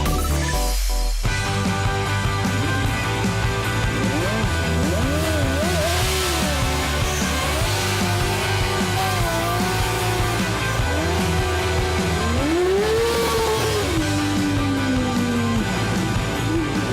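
Homemade formula-style race car built by young car enthusiasts, its engine droning and revving continuously at close range, pitch rising and falling as it drives, with music-like tonal lines running over it throughout.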